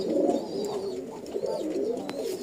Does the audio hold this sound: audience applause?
no